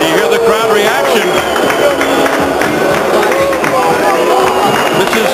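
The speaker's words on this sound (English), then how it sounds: "And you hear the crowd reaction." A large boxing arena crowd roars and murmurs in a continuous swell while a commentator talks over the noise.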